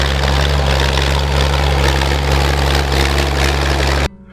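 A Dutra D4KB tractor engine runs steadily at a low, heavy drone, loud and close, then cuts off abruptly near the end.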